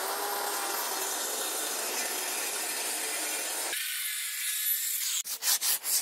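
A power saw grinds continuously through MDF board, a harsh broadband whine that cuts off, followed by a few short rhythmic rasps.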